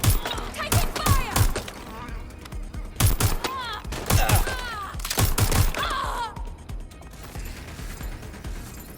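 Gunfire in the video game Watch Dogs Legion: bursts of shots crack out in quick clusters, loud and close, across a busy firefight with voices calling out between volleys.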